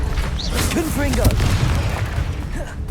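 A Confringo fire-blast spell from Hogwarts Legacy lands as a dull, booming burst beneath a dense mix of game effects, with a short spoken voice threaded through.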